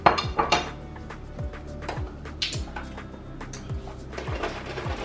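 Chopped onion tumbles into an oxtail pot with scattered clinks and knocks against the pot, a busy cluster of sharp hits at first that thins out into lighter taps.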